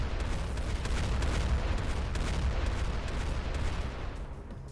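Mag dumping in Xpiratez, a dense, continuous roll of rapid gunfire and booming shots emptying a magazine, loud and steady with no pauses.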